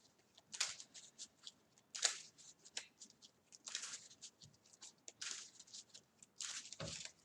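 A deck of playing cards being shuffled at a tabletop for a Marvel Champions card game, with repeated crisp riffling bursts and soft slaps in an irregular rhythm, close and fairly quiet, no talking.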